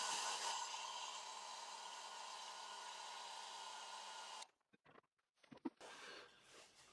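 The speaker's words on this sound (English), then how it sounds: "Just cheated a little bit and dried it off with a hairdryer." A hair dryer blows steadily and fairly loud for several seconds, drying a coat of finish on a turned ash elbow, then cuts off, leaving quiet handling noises.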